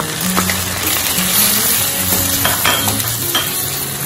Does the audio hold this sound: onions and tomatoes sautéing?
yes